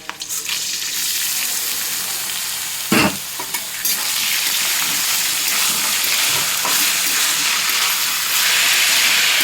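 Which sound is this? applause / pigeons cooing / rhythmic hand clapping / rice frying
rice frying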